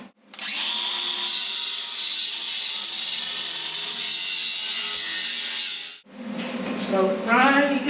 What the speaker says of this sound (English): let's take it off that cut-off saw and we just cut that